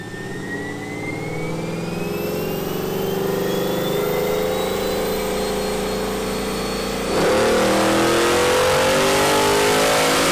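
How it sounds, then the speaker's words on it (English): A hot rod engine revs hard during a dyno pull, a loud, close, sustained roar whose pitch climbs steadily and then surges louder near the end. "Layton made a few more pulls on the dyno."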